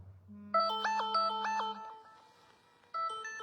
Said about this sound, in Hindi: बीच में फोन आ रहे हैं बहुत सारे